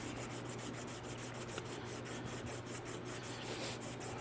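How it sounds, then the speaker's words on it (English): Steady, rhythmic back-and-forth abrasive strokes as a wooden knife handle is sanded and shaped by hand, close and fairly quiet, with no talking. "this is a thing that you can spend as much time shaping and sanding as you want"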